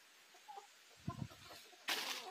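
A hen at a small country farm gives a few soft, short clucks, followed by a brief rustling burst, all faint against a quiet outdoor background.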